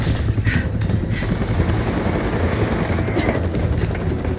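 Loud, continuous helicopter rotor thumping and engine whine from Batman The Telltale Series, a steady close drone with brief higher whooshes early on and no speech over it.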